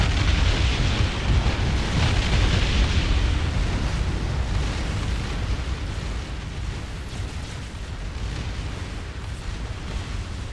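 Continuous heavy rumbling barrage of bombardment explosions in the space strategy game Distant Worlds Universe, a loud dense roar of overlapping blasts that eases slightly after the opening seconds and sustains without pause.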